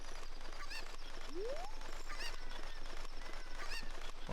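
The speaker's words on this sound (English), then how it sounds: "our chicken makes noise." Chicken clucking from the video game The Legend of Zelda: Ocarina of Time, a short rising squawk and a few brief calls over steady game ambience and music.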